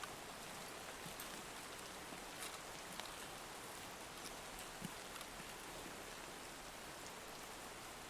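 Steady rain falls across the whole stretch in a raid-based shooter game, a constant soft hiss of drops on surfaces with no voices.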